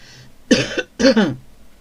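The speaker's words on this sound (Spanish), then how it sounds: "Sí, estoy con una tos." Two short, harsh coughs close to the microphone, separated by a brief pause, with no talking.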